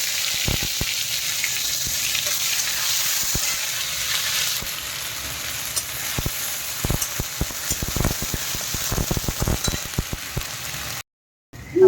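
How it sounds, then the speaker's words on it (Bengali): Onion paste frying in a pan over tempered spices, including black cumin seeds, gives a loud, steady sizzle with scattered crackles and stirring scrapes, cutting out briefly near the end. "এই যাবে পেঁয়াজ বাটা।"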